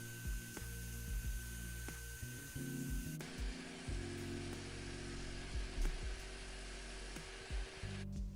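A Sealey SM750 250W belt and disc sander runs outdoors on 45mm-thick pine, with a steady motor whine and grinding, rasping bursts as the wood is pressed against the abrasive.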